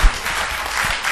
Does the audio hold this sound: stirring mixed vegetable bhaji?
no